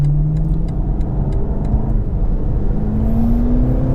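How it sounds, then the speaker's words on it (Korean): A BMW M8 Coupe Competition accelerates at full throttle in its softest drive mode, a steady loud engine roar rising smoothly in pitch over four seconds with no talk. "가장 부드러운 모드에서 잠깐 지금 풀스로틀을 해본 상태거든요."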